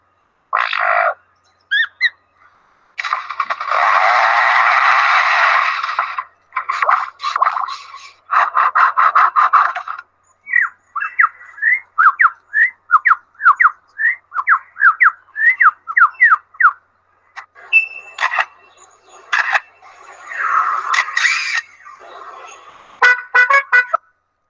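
A songbird mimicking forest rangers at work nearby and their chainsaws, delivering a long varied outdoor sequence of buzzing bursts, rapid repeated whistled notes and harsh squawky phrases, loud and close with brief pauses between runs.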